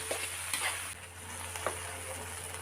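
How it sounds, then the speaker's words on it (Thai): Wild sweet leaf vegetables are stir-fried in a pan with a steady sizzle, broken by a few scraping stirs of a utensil, close and moderately loud with no talking. "ผัดให้ผักหวานสุกดีนะคะ แต่ว่าไม่ต้องให้เละค่ะ"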